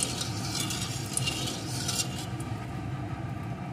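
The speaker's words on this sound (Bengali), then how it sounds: "এখন তেলটাকে একটু নাড়িয়ে নেব।" Salt being stirred into hot mustard oil in a pan, a steady scraping and clinking of a utensil against metal with a faint sizzle underneath, continuous and close.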